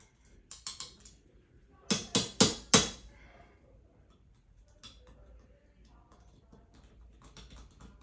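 Screws being tightened on a ceiling fan's mounting hardware during installation: a few light ticks, then four sharp, evenly spaced metallic clicks close by, followed by faint scattered taps.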